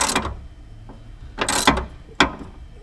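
A bolt being tightened on a work truck with a ratchet, a few separate bursts of clicking ratchet strokes spaced apart, close and clear with no voices.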